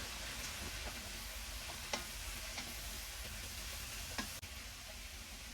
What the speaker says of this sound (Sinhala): දැන් මේ විදිහට රන්වන් පාට විදිහට බැදීගෙන එනකොට කරවිල ටික එකතු කරගමු. දැන් මේක මම කලවම් කරගමු.